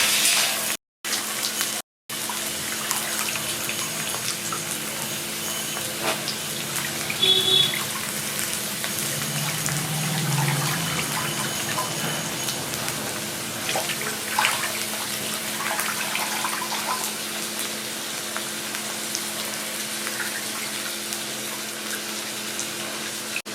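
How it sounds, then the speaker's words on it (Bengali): Steady running water from a tap as spinach is washed, with a faint sizzle underneath and a couple of brief dropouts near the start; no talking. "শাকটা আর একবার ধুয়ে নেব"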